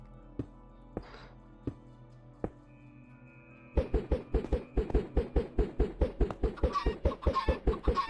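Chickens in the Minecraft RTX video game make a few sparse clucks, then a rapid run of repeated, evenly spaced clucking sounds that grows louder and busier, with no speech.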